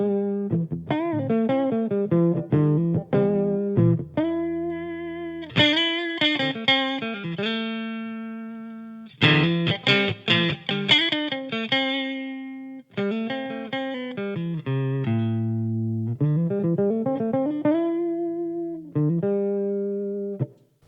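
A Harley Benton ST-59 HM electric guitar in Fiesta Red plays clean on its middle pickup while the tone knob is swept, giving close, solo phrases of plucked notes and chords with changing brightness.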